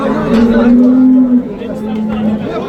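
Calves at a livestock market let out two long, low moos, loud and close, the first held steadily, with faint crowd noise behind.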